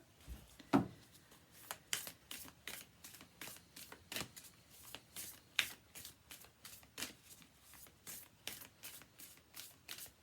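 Oracle cards being shuffled by hand: a quiet, rhythmic series of papery riffles and taps, close and soft, repeating steadily for about ten seconds with no talking.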